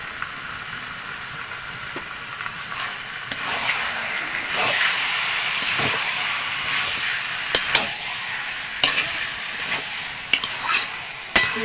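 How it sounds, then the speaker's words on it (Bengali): Chicken stir-fried in a pan with salt and turmeric, a steady sizzle with stirring scrapes and occasional sharp clinks of a utensil against the pan, fairly close and continuous. "চিকেনটা ভালো করে কষিয়ে নেব"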